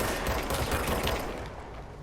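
Enemy gunfire in the video game Control, a loud, dense rattle of rapid shots that fades slightly toward the end, with no one speaking.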